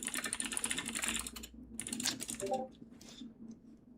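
Computer keyboard keys clicking in a steady run of typing, close and fairly clear, with a short break and a few scattered taps near the end.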